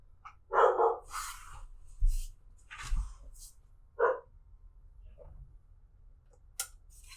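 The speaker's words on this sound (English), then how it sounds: "I can't control the dog in the background whenever he just goes apeshit." Dog barks in the background indoors, several irregular sharp barks spread across the stretch, moderately loud, with scattered clicks and rustles between them and a low hum underneath.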